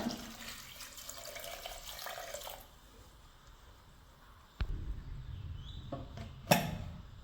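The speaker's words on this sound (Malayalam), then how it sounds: "വേവാൻ ആവശ്യത്തിൻ്റെ വെള്ളം കൂടി ചേർത്ത് കൊടുക്കുക" Water runs steadily into a pressure cooker for a few seconds, then stops, followed by a couple of clanks and a sharp metallic knock of the pot or lid.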